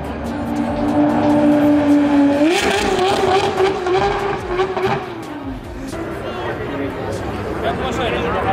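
Race cars roar past nearby on the straight at Jarama circuit, their engine pitch rising and then falling away as they pass, with people talking over the noise.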